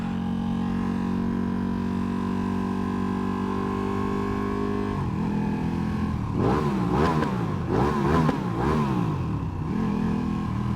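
A rebuilt, previously wrecked 2016 Ducati Panigale motorcycle idles steadily, then its engine revs up in several quick, loud bursts, rising and falling up close.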